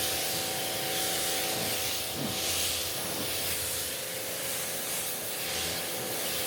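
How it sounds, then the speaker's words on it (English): Water spray hissing steadily against a car's surface during a wash with a Labo Cosmetica mitt, a loud continuous close-up rush with slight swells in intensity and no talking. "Spray it off."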